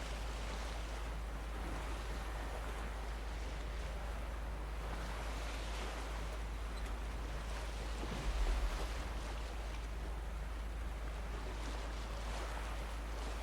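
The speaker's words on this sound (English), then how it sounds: "Imagine trying to get a tiny wooden boat across across those kinds of waves." Steady roar of ocean waves in The Witcher 3 video game, a continuous wash of surf and wind with one brief low bump partway through, no voices.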